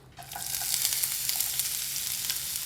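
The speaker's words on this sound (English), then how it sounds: "I'm gonna add some olive oil, couple tablespoons. I'm gonna cook some onion." Onion begins frying in a couple of tablespoons of olive oil in a pan, starting with a sudden burst of sizzle that settles into a steady, crackling hiss, close and alone.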